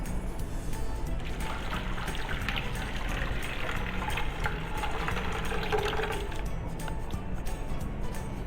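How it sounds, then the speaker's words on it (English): Hot water being poured into a pot of grated homemade laundry soap, a steady soft trickle and splash that runs continuously at a modest level with faint background hum. "And then add your 4 cups of hot water."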